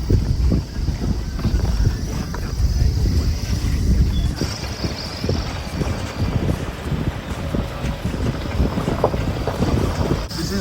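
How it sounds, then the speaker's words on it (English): A Mahindra Bolero SUV drives along a dark, hilly jungle road, with a constant rumble of engine and road noise mixed with heavy wind buffeting on the microphone from start to finish. "Only 3 of us are here, and we are moving with our good old Bolero."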